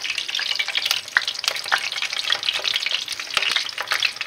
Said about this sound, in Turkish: Şimdi ısınmış yağımda bunları kızartacağım.